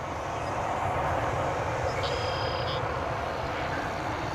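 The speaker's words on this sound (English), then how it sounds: "Don't have an ID on that plane that just took off." A jet airliner takes off at Dallas/Fort Worth International Airport, a steady distant engine roar held at an even level throughout, with a brief faint high tone partway through.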